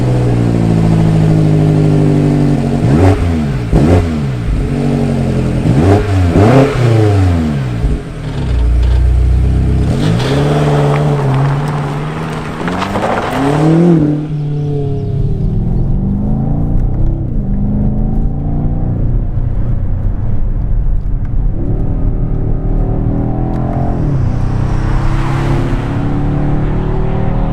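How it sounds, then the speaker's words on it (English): A 2020 BMW X6 M Competition (F96) engine, artificially amplified into the cabin, revs repeatedly in sharp surges, then settles into a steady, droning acceleration with a boomy, amplified tone. "the engine noise is artificially amplified and fed into the cabin"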